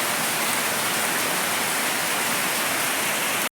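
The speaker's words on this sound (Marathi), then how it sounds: "पण पाऊस चालू असा" Heavy rain falls at night in a Konkan village, a dense, loud, continuous rushing hiss with no voices, ending abruptly.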